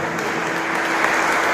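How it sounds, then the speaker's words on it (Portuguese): A congregation claps during a Brazilian evangelical deliverance service, a loud, dense wash of applause filling the whole moment without pause, close and sustained. "Aleluia, aplaude o Senhor."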